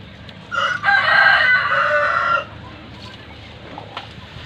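A single loud rooster crow rings out close by for about two seconds, followed by quiet background.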